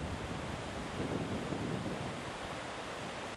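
Rushing floodwater of a swollen river in flood, a dense continuous roar of turbulent water with steady broadband hiss and wind-like noise, unbroken and without voices.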